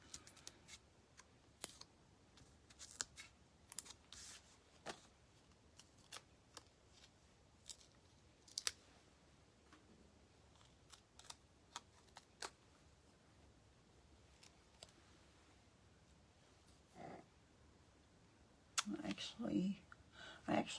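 Scissors snip around a small paper figure in a craft session, producing faint, close clicks and cuts scattered irregularly, with a person talking quietly between snips.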